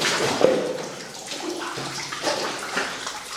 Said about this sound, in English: the water's flowing right through the cracks there.